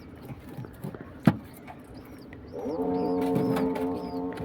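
Pigeons in their loft, some of them crossbreds, give low rolling coos that swell into a steady, close chorus after a few scattered rustles and a sharp knock.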